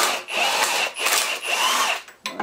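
A cordless impact wrench working a bolt loose on a Land Cruiser 3.4 liter 3B turbo engine build, giving three loud, close bursts of whirring, rattling hammering with brief gaps between them.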